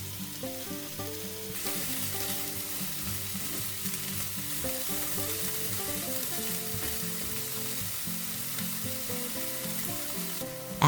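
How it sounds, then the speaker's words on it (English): Onions sauté in a hot pan for a chicken and mushroom quiche, a steady close sizzle starting after a quiet moment and running continuously beneath louder background music with a sustained melody. "add the onions, and cook until they are soft and translucent"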